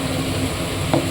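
Potatoes and onion sprouts frying in a wok, a steady low sizzle with a brief stir or scrape near the end.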